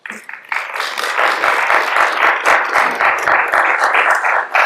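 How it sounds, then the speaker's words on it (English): A crowd at a memorial service for Jamal Khashoggi gives a round of applause: loud, thick clapping that starts after a brief lull, swells and holds steady throughout. "You can give them a round of applause"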